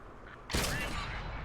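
A single loud tank gun blast from an FV201 (A45) in World of Tanks erupts after a quiet moment, followed by a rumbling, mechanical tail.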